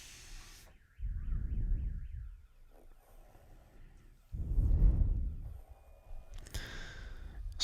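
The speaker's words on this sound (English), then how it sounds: "Somebody's car alarm is going off outside." A car alarm outside gives a faint, distant warbling wail early on, heard under louder close breathy exhales and soft clicks indoors.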